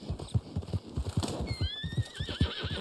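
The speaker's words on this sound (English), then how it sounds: "I'm sorry about hitting my horse. It was an accident." A horse neighs and whinnies in the Western video game Red Dead Online, a long high call rising over steady clip-clop hoofbeats, close and clear with no talk.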